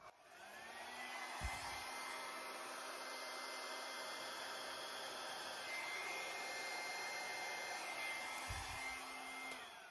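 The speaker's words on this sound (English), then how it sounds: "I'm going to try the hairdryer and just blow a little bit over there." A hair dryer blows over wet paint in a blue fluid art pour, a steady whooshing drone that holds for about ten seconds with faint clicks near the start and end.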